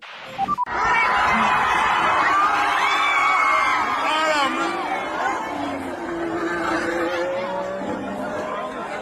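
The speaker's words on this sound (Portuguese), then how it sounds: "Eu vou pedir pro Fábio colocar um áudio da torcida no momento que acontece isso" A dense crowd of racing fans at the Mexico Grand Prix, recorded up close in the grandstands: many voices shouting and chattering together, with rising whoops and scattered laughter. The roar stays loud and steady for the whole stretch, easing only slightly toward the end.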